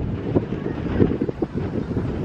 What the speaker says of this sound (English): Sorry guys, it's super windy today